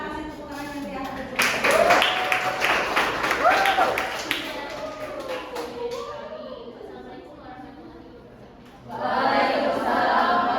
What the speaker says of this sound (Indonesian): Oke, kita kasih tepuk tangan yang di atas.